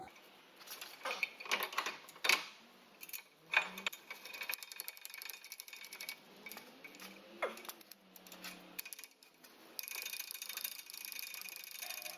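A hand ratchet tightens the brake caliper bracket bolts on a 2006 Kia Sedona, with bursts of quick close clicking separated by pauses and a short hissy stretch near the end.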